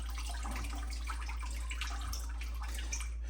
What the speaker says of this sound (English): Let us pour our ham out.